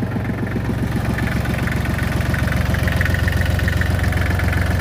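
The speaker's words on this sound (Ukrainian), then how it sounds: "Приємний звук мотора." A Kubota GL221 tractor's diesel engine idles steadily up close, a loud even low chugging throb with a faint buzzing rattle from a loose seal, and no voices.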